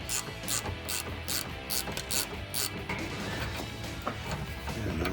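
A ratchet loosens rear leaf spring shackle bolts on a Toyota Tacoma fitted with Old Man Emu Dakar heavy load springs. Bursts of rapid pawl clicking repeat up close, and metallic clanks of the tool against the bolt are mixed in.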